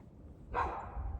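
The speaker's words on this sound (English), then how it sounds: "He's a great dog." A single dog bark rises abruptly halfway through and fades into a low background hum, moderately close.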